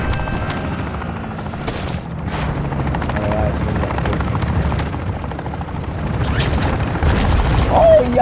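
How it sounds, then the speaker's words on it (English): Helicopter in the video game Call of Duty MW3, its steady rotor thrum droning loud and continuous through the whole stretch, with game booms and mechanical noise layered over it. "Oh, yo, look at the helicopter."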